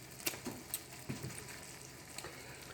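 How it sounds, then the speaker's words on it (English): A crab cake frying in a pan gives a faint, steady sizzle with scattered soft crackles and pops throughout, close and quiet. "we're going to let that fry"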